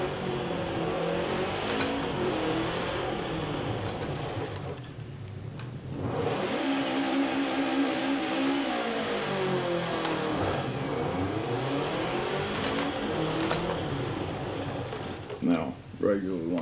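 Car launching hard from a standstill on a dirt surface in Forza Horizon 4 with launch control engaged, the engine revving high and climbing through gears, loud and continuous with a brief dip before pulling away again.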